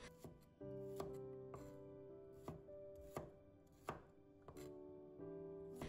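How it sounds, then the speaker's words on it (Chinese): A knife chopping shallots into small pieces on a board, about ten crisp, evenly spaced strikes close by over a bed of soft background music, no talking. "把红葱头切成粒"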